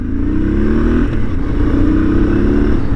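A 1999 Honda Transalp 600V motorcycle accelerates with a steady, close, loud V-twin engine drone whose pitch climbs, dips slightly and climbs again.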